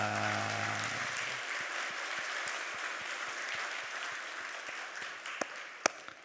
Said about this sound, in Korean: 마음 담아서 박수 한번 크게 드리도록 하겠습니다